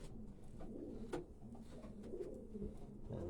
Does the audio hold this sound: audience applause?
no